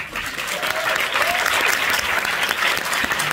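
Audience applause for the team at the closing ceremony of the FEFFS 2024 film festival, a loud, full burst of clapping from a large crowd, with a brief voice faintly heard beneath it.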